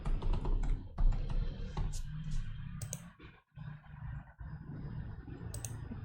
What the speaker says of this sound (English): So let me see if I type it in myself.